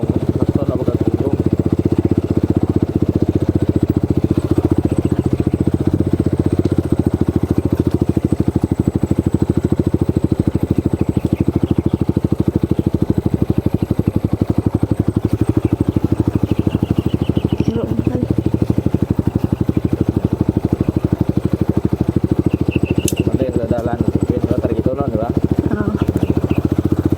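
A motorcycle engine runs steadily throughout, a continuous low rumbling drone with some clatter, close and loud.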